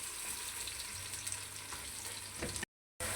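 Onions frying golden brown for chicken haleem sizzle with a steady hiss and a few light stirring clicks, then cut out abruptly for a moment before resuming.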